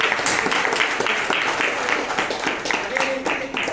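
A crowd claps together at a full moon puja in a temple, the applause dense and continuous, with voices mixed into it.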